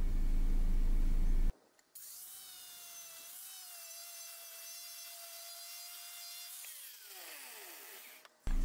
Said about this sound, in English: You're going to use the flap wheel on the mild steel and basically clean the mild steel.